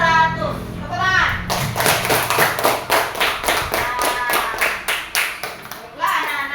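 A classroom of children claps in a fast, steady rhythmic burst that lasts several seconds. Young voices chatter just before and after the applause.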